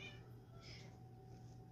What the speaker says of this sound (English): The cats are sassing.